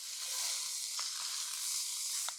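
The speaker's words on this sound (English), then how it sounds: "we'll finish our pork tenderloin off with a nice sear on all sides" Pork tenderloin sears in hot oil in a pan over high heat, giving a steady close sizzle and crackle that runs unbroken, with faint stirring ticks.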